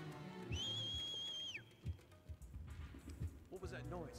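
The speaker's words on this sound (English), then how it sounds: "What if I could just whistle?" A clear two-tone whistle in Shadow of Rome holds for about a second over quiet footsteps and background game sounds, followed by a short warbling call near the end.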